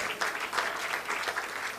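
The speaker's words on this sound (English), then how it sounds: "I believe if you are clapping, you can make it bigger, you can make it better." Audience applause at a nursing induction ceremony, a steady dense wash of many hands clapping at moderate level for the whole stretch, with no voices over it.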